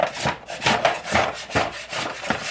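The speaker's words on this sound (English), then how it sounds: "I'm going to scrape them off my tray because they'll stick a little bit" Frozen drop dumplings being scraped loose from a tray, a run of rough, scratchy strokes repeating in an uneven rhythm, close and fairly loud with no talking.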